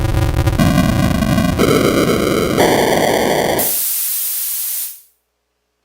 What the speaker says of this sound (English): I didn't even know there was a violet noise.